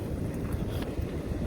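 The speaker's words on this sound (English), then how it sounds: "Hope the wind's not too bad for you." Wind buffets a microphone while fishing from a boat, a loud, continuous low rumbling roar that fills the short clip.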